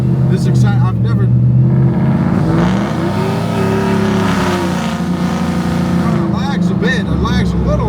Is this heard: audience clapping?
no